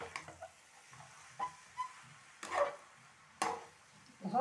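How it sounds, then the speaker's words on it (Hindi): Ground soybean mince is stirred with spices in a frying pan, giving soft, intermittent scrapes and clacks of the spoon. The sounds are quiet and close, with a faint sizzle underneath. "फाइनली डाल देते हैं इसमें अपने सोयाबीन जो मैंने पीस के तैयार किया हुआ है, करेंगे इसे अच्छी तरीके से मिक्स"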